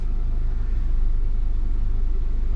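Rebuilt Honda CR-V engine idling low in a garage, a deep steady rumble with a rhythmic low-frequency pulse, close and alone.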